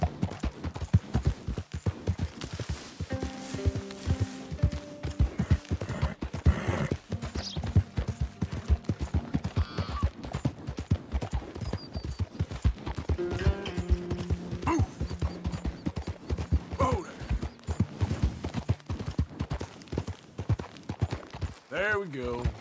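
Horse hooves clip-clop steadily in Red Dead Redemption 2, a continuous rhythmic trot of close, even hoofbeats with an occasional whinny, while someone talks over it at intervals.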